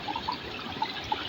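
Strong stream water flows over rocks outdoors, making a steady broadband rush with a few brief bright gurgles and splashes throughout, moderately close and without speech.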